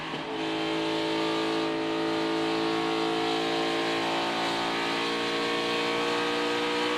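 NASCAR stock cars racing in the Dixie Vodka 400, a loud continuous engine roar with layered tones that climb steadily as the cars accelerate, heard without talking.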